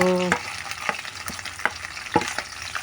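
Smoked fish is sautéed with golden-brown garlic and onion in a pan for a mung bean dish, giving a crackling sizzle broken by repeated sharp utensil scrapes and taps against the pan.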